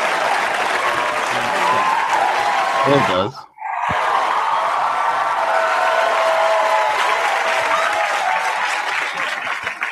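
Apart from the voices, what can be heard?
audience applause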